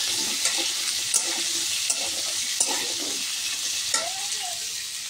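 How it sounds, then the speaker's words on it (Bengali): Potato pieces sizzle in hot oil in a pan after paneer has been fried in it, under a constant frying hiss with several sharp scrapes and knocks of a stirring spatula. "এবার এর মধ্যে আলুগুলিকে দিয়ে ভেজে নেব"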